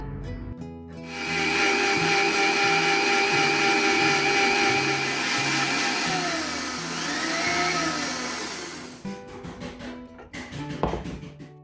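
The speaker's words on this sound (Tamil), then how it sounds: "லைட்டாக மட்டும் தண்ணி சேர்த்துட்டு நல்ல ஒரு ஃபைன் பேஸ்ட்டாக வந்துட்டு அரைச்சி எடுத்துக்கோங்க" A mixer grinder grinds spice paste with a little water, whirring loudly and steadily for several seconds, its motor pitch shifting slightly, then winds down and stops with a few clunks.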